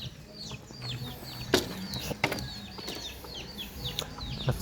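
Chickens chirping and peeping in repeated short calls at a family one-month baby celebration, with a low background hum and a few sharp knocks or clatters.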